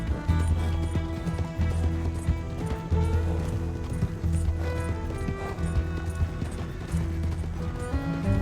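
Rhythmic clip-clop of horse hooves galloping in Red Dead Redemption 2, steady and fairly loud throughout, mixed with game music and ambient mechanical sounds.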